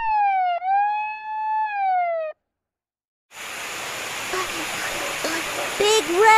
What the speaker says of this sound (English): Lil Red turns on his siren, but it sounds so weak